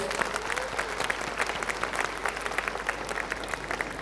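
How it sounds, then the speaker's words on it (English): Parents at a school annual concert receive a round of applause from the audience, steady dense clapping filling the hall throughout without pause. "Can we have a round of applause for all our parents?"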